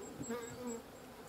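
Honeybee swarm buzzing steadily as it is moved into a new hive, a close, continuous droning hum with a few brief rises in pitch throughout.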